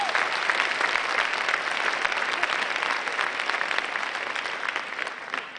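A large audience at a National PTA presidential installation ceremony gives sustained applause, a dense, loud wash of many hands clapping that tapers slightly toward the end.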